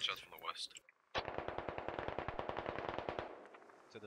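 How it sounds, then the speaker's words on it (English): Rapid automatic gunfire in the military shooter game Squad, a long sustained burst of evenly spaced loud shots after a brief quieter lead-in, with faint voices underneath. "We're taking shots from the west"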